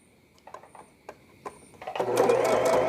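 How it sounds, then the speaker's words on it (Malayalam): A sewing machine runs while a smocked frock is stitched, first a few faint scattered clicks and then a steady, loud mechanical whir that builds and holds close by, with no talking. "ആദ്യം ഫസ്റ്റ് വെറുതെ ഒന്ന് ത്രെഡ് പാസ് ചെയ്തിട്ടാണ് ഇപ്പോൾ സ്റ്റിച്ച് ചെയ്യുന്നത്"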